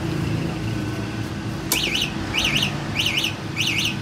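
A Somero Storm Spirit V3i three-wheeled e-bike's anti-theft alarm chirps loudly in repeated warbling bursts, roughly four rhythmic pulses, over constant engine-like hum and street noise.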